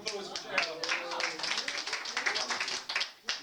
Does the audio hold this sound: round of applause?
yes